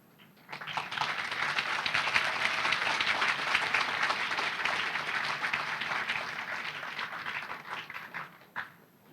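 Sustained audience applause at a university graduation ceremony in Malaysia, steady and evenly dense for about eight seconds before tapering off at the end, with no voices over it.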